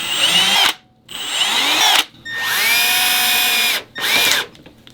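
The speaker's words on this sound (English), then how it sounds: "now I'll screw these pieces together" A power drill drives screws to join small wooden pieces. It makes four loud, close bursts of motor whine, each rising in pitch and then stopping, with short quiet gaps between them.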